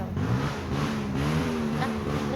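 Motor engine revving and climbing in pitch as a vehicle speeds past near a dam, a loud buzzing tone with harmonics rising and falling, no talk over it.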